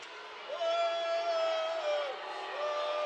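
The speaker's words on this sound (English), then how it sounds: "You can hear the chorus of boos right now." Booing crowd at a minor-league ECHL hockey game between the Jacksonville Icemen and Florida Everglades, a loud sustained wash of voices filling the arena with long drawn-out jeers rising and falling for several seconds.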